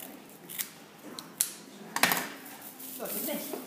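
Scissors cutting floral collar material for a small textured posy, several sharp snips and rustling crinkles spaced out, close and moderately quiet.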